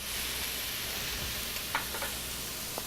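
Shrimp frying in a pan make a loud, close, continuous sizzle, with a few brief sharper pops and stirring sounds near the end.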